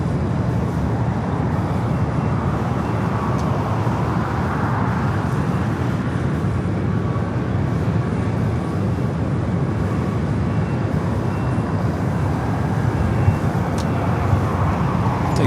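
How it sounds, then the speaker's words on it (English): Delta Airlines Airbus A319 jet at Los Angeles LAX airport, a steady broadband roar of engine noise holding loud and constant throughout with no voices. "Delta Airlines flight 1438, coming up from San Jose, California. It's an A319, of course."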